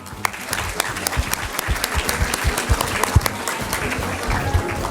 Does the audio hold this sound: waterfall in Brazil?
no